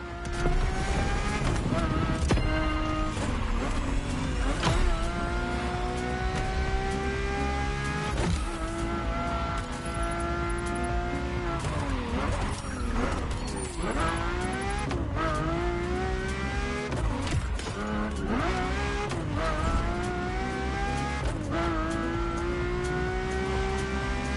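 Ferrari F40 and F50 supercars driving in the racing game The Crew Motorfest: loud, continuous engine roar rising and falling through gear changes and revs, with occasional tire squeal. Music plays throughout.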